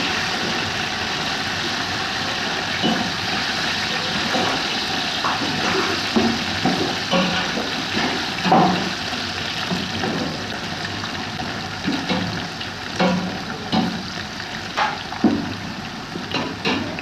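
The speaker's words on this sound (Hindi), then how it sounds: "अब हम इसमें अदरक डाल देंगे, जरा मिक्स कर लेंगे।" Ginger stirred into a frying pan for a chicken and rice dish: a steady, loud sizzle with scattered scrapes and taps of a utensil against the pan, no voices.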